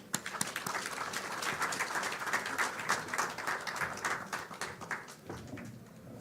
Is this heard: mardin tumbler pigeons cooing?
no